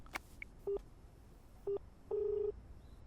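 Telephone keypad tones sound in a Tamil drama scene: a few short beeps, then a longer held tone, all faint over a quiet background hiss.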